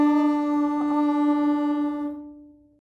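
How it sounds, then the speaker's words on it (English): A single sustained violin note held steadily for about two seconds, bowed smoothly, then fading away. No voices. "and on the violin it will sound something like this."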